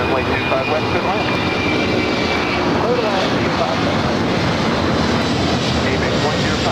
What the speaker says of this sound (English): There's the ABX Air 767.